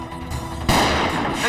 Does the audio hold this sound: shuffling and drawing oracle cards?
no